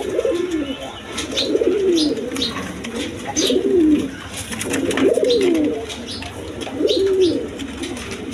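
Fancy pigeons kept in pairs coo in a steady rhythm, with four clear rolling coos spaced about a second and a half apart against light background noise.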